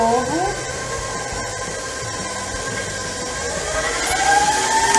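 An electric mixer beats Oreo cake batter with a steady whirring motor drone, close and continuous, its pitch shifting slightly at the start and end. A voice talks over the machine.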